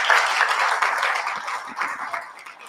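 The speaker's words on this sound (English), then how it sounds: "Can we just give them a round hand of applause?" Audience applause at a civic space protection summit: a short burst of crowd clapping that stays fairly loud and then eases off slightly.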